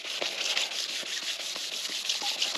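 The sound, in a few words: sanding golf cart body with a sanding block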